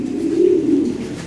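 A single close, loud Lahori Sherazi pigeon of imported European bloodline gives a sustained, throaty coo that swells and wavers for about a second with no other sound around it.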